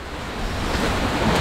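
Ocean waves wash and wind buffets the microphone steadily aboard a sailboat at sea, a continuous rushing noise with no voices.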